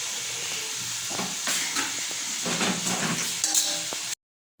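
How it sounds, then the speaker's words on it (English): Small omena fish deep frying in hot oil give a steady bright sizzle and hiss, with a few soft clinks and stirring noises on top, before the sound cuts off abruptly. "So we are going to wait for it to deep fry."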